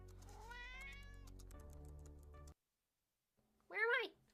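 A black cat meows, first in a long, wavering, drawn-out cry over background music, then in one short, loud, close meow after a brief silence.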